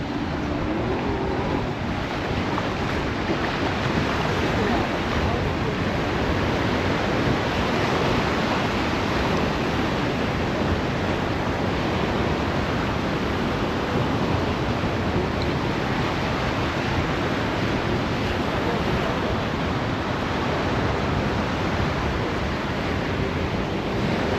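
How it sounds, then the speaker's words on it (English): Continuous rushing surf and breaking waves fill the air, a loud, steady wash of ocean noise with wind and no voices. "This is a beach you could walk forever"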